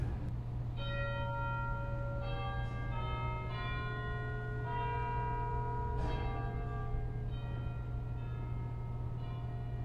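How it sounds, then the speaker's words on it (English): Chimes of a 1924 Kimball pipe organ in the Scottish Rite Cathedral, St. Louis, sounding from the echo division: a slow sequence of clear, ringing bell tones, each struck note overlapping the last's decay over a steady low hum. "Finally, of course, there are the chimes, which in this case are located up in the echo division."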